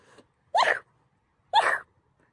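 Two short, sharp sneezes, about a second apart, close and fairly loud, with quiet in between.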